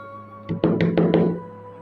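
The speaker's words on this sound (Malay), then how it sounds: "Aku ketuk lah VCD player tu." A malfunctioning VCD player that has stopped on its own is struck with about five quick, solid knocks in a row, close and fairly loud, against a faint steady hum.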